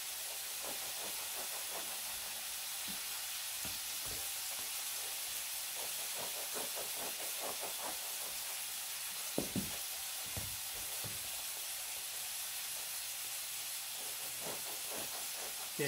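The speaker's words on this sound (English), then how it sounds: "while the burgers are cooking" Burgers sizzling on a cooking surface give a steady, loud hiss that runs throughout, with occasional pops and crackles rising above it.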